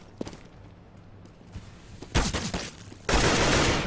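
Gunfire in a CS:GO professional match on de_dust2, scattered single shots early, then a loud burst of rapid automatic fire, a brief pause, and another sustained loud volley.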